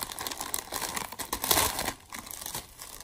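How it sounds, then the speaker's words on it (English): Crinkly plastic packaging around a baby girl's romper being handled and opened close by, producing a continuous dense crackling and crumpling with brief tearing bursts, loud and without talk. "This plastic is very crinkly"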